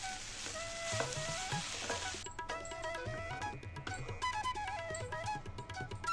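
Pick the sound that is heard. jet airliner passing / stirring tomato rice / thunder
stirring tomato rice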